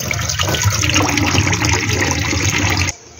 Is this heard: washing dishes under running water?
yes